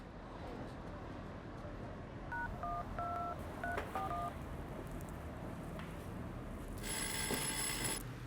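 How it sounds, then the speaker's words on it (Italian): A telephone in an Italian children's show: a run of keypad dialing tones, then a short electronic ring near the end over steady background noise. "il telefono,"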